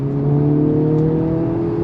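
A 2024 Acura Integra Type S, a front-wheel-drive car with a six-speed manual, drones loudly and steadily on throttle, its engine note holding an even, humming pitch throughout.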